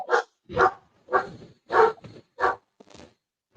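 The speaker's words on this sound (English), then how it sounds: "Whose dog is that? That is mine upstairs." A dog barks from upstairs in a home, about seven sharp barks in an irregular rhythm, fairly close and loud, with quiet gaps between them and no talking.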